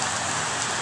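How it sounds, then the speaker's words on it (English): Rain pouring steadily outside, a dense, even hiss of drops hitting surfaces that stays constant throughout the brief moment, with no voices. "you can see it's still raining."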